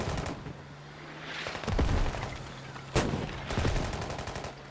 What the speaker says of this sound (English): It is a shootout.